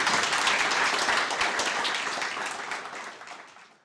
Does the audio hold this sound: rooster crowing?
no